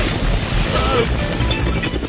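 A cartoon helicopter from the Motu Patlu comedy gives a continuous, loud whirring rotor noise that fills the short stretch without pause.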